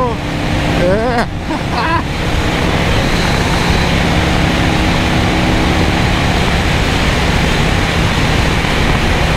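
A 1984 Harley-Davidson FLT Tour Glide cruises on the highway at 4,000 RPM: a constant loud roar of engine and rushing wind, with a brief voice near the start.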